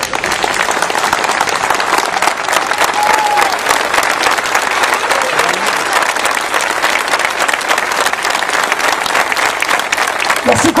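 A standing audience applauds in tribute at a memorial gathering, loud, sustained, dense clapping that continues without a break for about eleven seconds.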